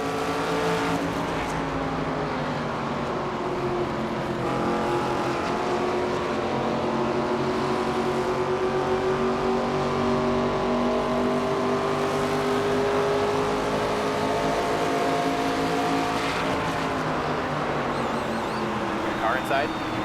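Race car engines roar steadily through a NASCAR 25 night race at Phoenix, a continuous loud drone with shifting pitch as cars run together, under intermittent talk.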